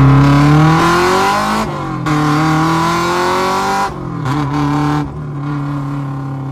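A Honda Civic EG hatchback with a B20 DOHC engine pulls hard from inside the cabin, loud and droning as revs climb through several gears, with brief dips at each shift.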